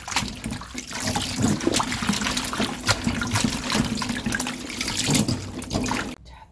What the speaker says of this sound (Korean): 소금물만 이렇게 흔들어 준다는 생각으로 조금만 부어서 건져내세요.